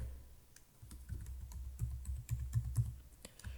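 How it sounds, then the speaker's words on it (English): Close, quiet keyboard typing on a computer, a rapid irregular run of soft clicks and key taps with no talking. "If I start typing here"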